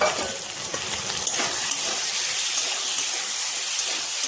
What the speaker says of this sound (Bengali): এই যে আলু হালকা ভাজা হয়ে গেছে, দিয়ে দিচ্ছি টমেটো